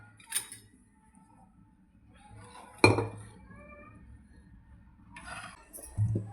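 Chopped dill and spinach greens are tipped into a metal kadhai with a sharp clank and scraping, and a few more quieter metallic clinks follow in an otherwise quiet kitchen.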